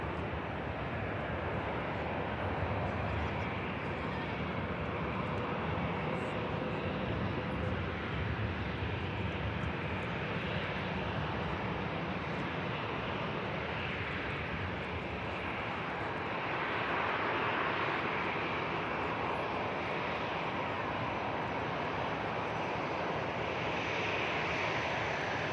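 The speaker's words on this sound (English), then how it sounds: "Ryanair on the taxi out for Eindhoven." A Ryanair jet airliner taxis out at Manchester Airport for a departure to Eindhoven, producing a continuous broad engine rumble and roar that swells slightly partway through, heard from a moderate distance with no talking.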